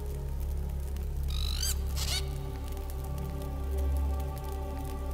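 A parrot in the video game Risen 2 lets out two short, shrill squawks, rising calls heard over a steady low in-game ambient hum.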